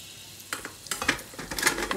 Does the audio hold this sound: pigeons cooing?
no